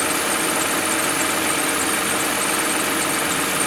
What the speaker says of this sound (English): you'll still kind of hear that rattly-tattly a little bit until it's fully up to temperature